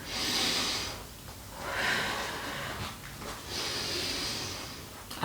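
Slow, deep yoga breaths come in a steady rhythm, with a soft airy inhale and exhale repeating several times, close and fairly quiet.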